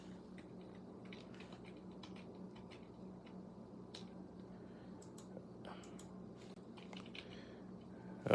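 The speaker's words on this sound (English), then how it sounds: "That's why I need to look at my keyboard, because I don't know what keys I'm hitting." Quiet typing on a computer keyboard, scattered light key clicks in short bursts over a steady low background hum, close and soft with no talk.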